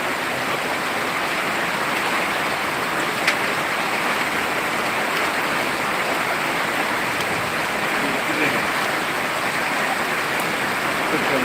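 Heavy rain pours down in Sirajganj, Bangladesh, in a dense, steady hiss, constant and loud throughout with no voices.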